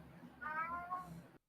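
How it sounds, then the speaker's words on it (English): A house cat meows in a drawn-out, wavering cry lasting about a second, fairly close and clear over a quiet indoor background, then stops abruptly. "You hear the cat."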